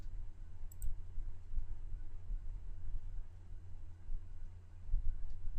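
Small, quick clicks from a computer mouse at a desk, a couple of sharp ticks near the start and another later, faint over a low steady hum with no voices.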